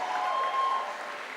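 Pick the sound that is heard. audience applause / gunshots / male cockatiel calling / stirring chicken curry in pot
audience applause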